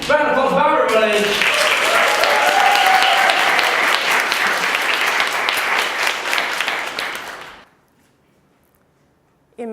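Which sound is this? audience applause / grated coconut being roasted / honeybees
audience applause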